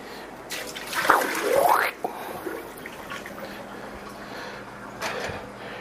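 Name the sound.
water dumped out of a French press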